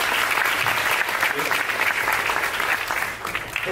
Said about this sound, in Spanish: Fuerte aplauso,